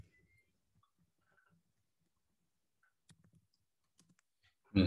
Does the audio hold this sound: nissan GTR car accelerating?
no